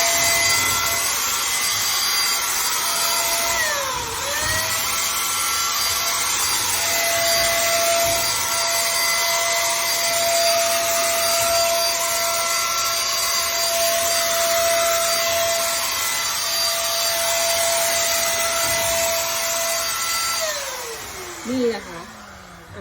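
An ONSEN ON-SP550S 220V electric paint spray gun with a stainless steel cup sprays thinner-based oil paint in a steady, loud motor whine that runs for about twenty seconds, then stops with a brief falling tone.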